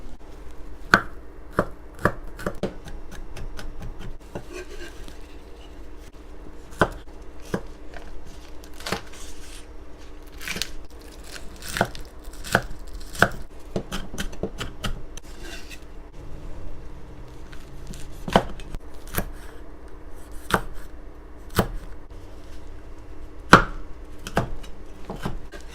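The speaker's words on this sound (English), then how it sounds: "I'll probably chop maybe a half of this Korean green chili" Knife chopping Korean green chili on a cutting board, a close series of crisp irregular taps, sometimes in quick bursts and sometimes spaced out, steady and moderately loud with no talking.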